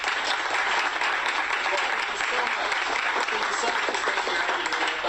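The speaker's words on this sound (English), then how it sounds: "let's give her a big round of applause" Dinner event audience applauding a guest during an interview, a dense, even burst of clapping that stays loud and continuous from start to finish, with some talk under it.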